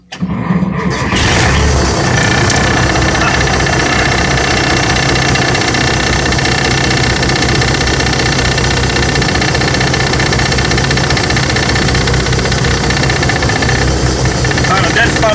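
A 1975 Kenworth LW924 truck engine cranks and fires, then settles into a loud, steady, rumbling idle with a knocking rhythm that runs unbroken to the end.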